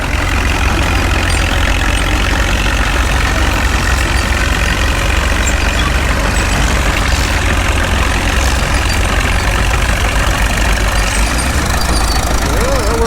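An International Harvester tractor engine runs after shifting up a gear, a loud, steady, close diesel rumble that continues without break throughout.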